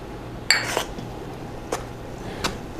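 Mixing pizza dough ingredients with olive oil in a bowl, heard as a few sharp clinks and taps of a utensil against the bowl over quiet room background, with no talking.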